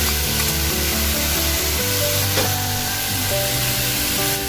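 Malabar spinach stalks and jackfruit seeds hit a hot frying pan, producing a loud, steady sizzle that continues throughout over faint background music.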